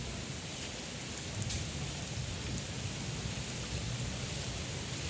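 Heavy rain falls steadily in a broad, even wash, with a brief louder patch partway through and no voices.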